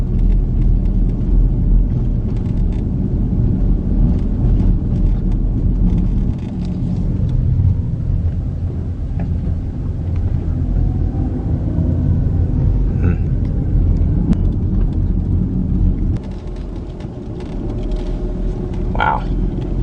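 A car drives down a residential street in Clarksdale, Mississippi, its engine and road noise forming a steady low rumble throughout, with faint higher clicks and rattles above it.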